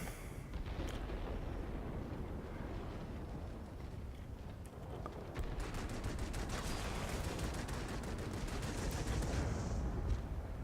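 Rapid bursts of cannon fire from a Yak-15 jet fighter in World of Warplanes, loud continuous rattling volleys over steady engine roar, intensifying in the second half.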